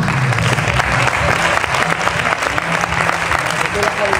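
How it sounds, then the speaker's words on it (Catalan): A crowd at a Templars' fellowship lunch in Alzira applauds a member receiving an award, clapping steady and fairly loud while voices murmur underneath. "Per favor, un aplaudiment"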